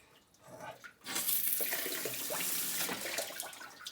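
Water gushing out while a car heater core is flushed, starting quiet and then jumping to a loud, steady splashing stream that holds for several seconds.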